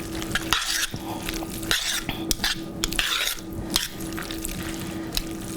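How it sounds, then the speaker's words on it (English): Bucatini pasta being stirred through thick tomato sauce in a pan, with wet sloshing, soft sizzling and occasional utensil scrapes in a steady rhythm, close and moderately loud with no talking. "Move around the bucatini with the tomato sauce"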